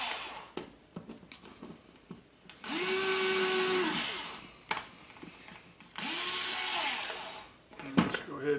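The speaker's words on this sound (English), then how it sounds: "we'll go ahead and do us an 1/8 inch pilot hole" Small power drill boring a 1/16 inch pilot hole in a Mini XL quad frame, two separate bursts of high whine each lasting over a second, with quiet handling clicks between.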